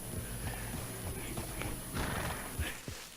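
Horse hooves clip-clopping in Red Dead Online, a steady trotting beat heard close under dense game ambience, with a brief whinny-like tone near the end.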